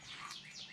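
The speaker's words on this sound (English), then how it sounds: "Hopefully you guys can hear the birds." Faint, brief bird chirps twitter in the distance against a soft outdoor background.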